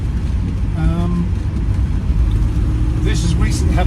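A 1969 Rover P5B coupe idles steadily, its engine a constant low rumble that stays near and even throughout, with a brief faint tonal whine partway through and a burst of high hiss toward the end.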